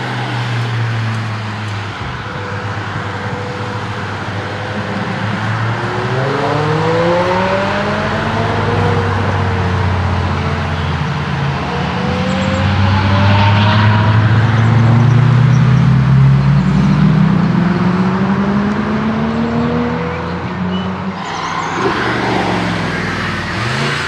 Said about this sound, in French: C'est le Lux Classic Tour, un tour du Luxembourg en 6 étapes qui aborde de super bolides